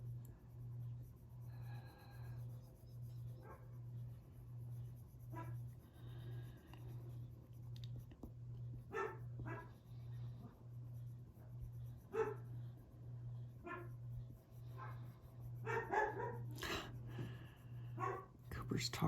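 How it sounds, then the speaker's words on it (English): A dog barks now and then from across the street, heard faint and distant through an open window over a steady pulsing hum and soft pencil-on-paper scratching. "Talking to the dog across the street."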